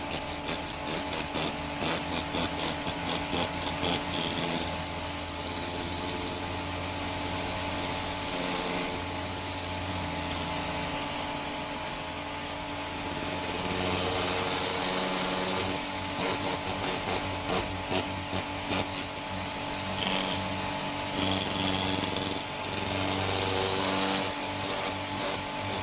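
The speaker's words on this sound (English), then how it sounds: "We'll start cleaning the left section with the dirt blaster." A pressure washer with a dirt blaster nozzle cleaning WPC composite decking boards outdoors, giving a loud, continuous hissing spray and motor drone that runs unbroken throughout, with no talking.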